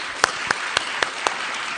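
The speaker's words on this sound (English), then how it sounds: "let's give a huge round of applause to the judges" Five evenly spaced claps ring out over a low background murmur, a sparse round of applause for the judges at a city-builders pitch competition.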